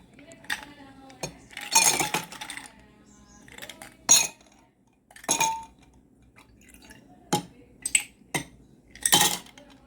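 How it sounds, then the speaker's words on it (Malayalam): Ice cubes dropped into glasses for two coffees: sharp, close clinks and clatters arriving in separate bursts, with quiet pauses between them. "ഞാൻ ഐസ് ഇടട്ടെ"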